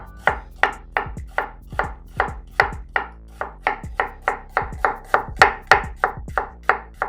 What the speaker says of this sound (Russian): И теперь хорошенько порубить.